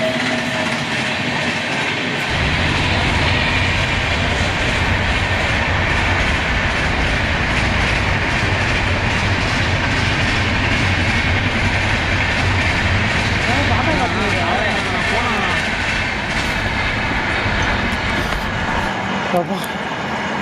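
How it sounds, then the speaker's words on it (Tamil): A train rumbles past close by, loud and steady, with rhythmic clattering of wheels on rails and voices talking over the noise. "இரு ட்ரெயின் போகுது."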